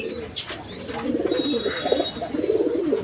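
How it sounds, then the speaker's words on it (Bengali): Pigeons cooing at a pigeon farm where fancy breeds such as Kokka, Turibaz, Beauty and King pigeons are kept; steady overlapping low coos fill the scene, with brief higher chirps and calls from other birds. "দেখতে পাচ্ছেন এই যে কবুতরগুলো দেখেন"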